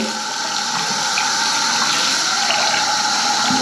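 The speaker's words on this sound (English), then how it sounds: "Bring up your hot water." Hot water running from a tap, a steady, loud, close rush of flowing water that holds constant from start to finish, with no voices over it.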